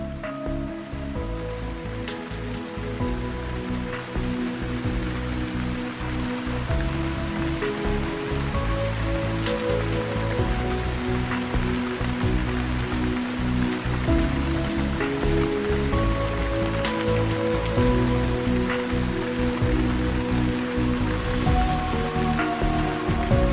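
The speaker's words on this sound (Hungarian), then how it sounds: "most például el is kezdett esni az eső" Rain falls steadily on a sailboat, a dense, continuous patter of drops on deck and surfaces with scattered sharper taps, loud and close throughout with no voices.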